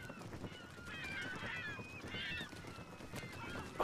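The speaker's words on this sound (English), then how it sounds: "Fucking seagulls!" Seagulls in the Final Fantasy 8 video game cry in a steady flock, with overlapping honking calls over a constant background hum, moderately loud throughout.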